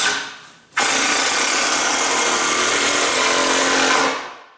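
A power drill drives a screw into lumber while building a rolling 4x8 shop bench, a loud, steady whirring buzz that starts abruptly, runs for about three seconds and winds down.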